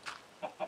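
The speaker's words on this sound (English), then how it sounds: "Chicken, chicken, chicken, chicken, chicken, chicken, chicken," A chicken in the Minecraft video game gives three quick clucks, faint and clipped, spaced across under a second with nothing else around them.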